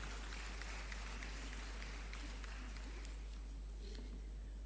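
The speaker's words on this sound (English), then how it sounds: "Please put your hands together and give our presentation party a round of applause." Applause from an audience at a university graduation ceremony, a steady patter of many hands clapping at moderate distance, continuous and even over a constant electrical hum.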